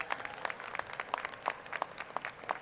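A graduation audience at a Houston Community College morning ceremony claps in scattered, moderately quiet applause, a few distinct hand claps standing out over a soft crowd wash.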